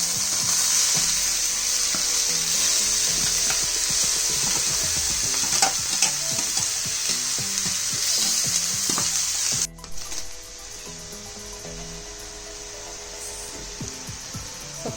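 Greens and browned onions frying in a pan, a loud steady sizzle with rhythmic scraping stirs, and the hiss suddenly drops to a quieter, softer sizzle partway through.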